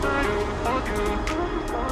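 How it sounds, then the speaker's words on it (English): Steady street traffic rumbles close by, with cars passing in a continuous low wash and a few brief hissing swells, while a voice talks over it. "A lot of traffic today."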